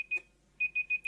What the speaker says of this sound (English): Sorry, that's the alarm to say, come on, shut up.